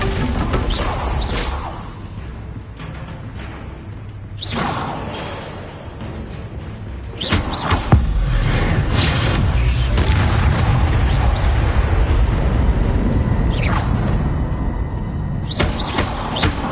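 Confringo blasting spells are cast in a Harry Potter video game, producing heavy booming explosions with crashing bursts. A loud, dense roar holds steadily through the second half, with no speech on top.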